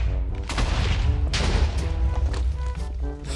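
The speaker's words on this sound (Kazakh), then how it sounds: "все динамитпен жарып тастай салайық" Dynamite blasts in Minecraft, a rapid series of booming explosions and crashing thuds, loud and close, with a heavy burst at the start and another large one midway, no talk.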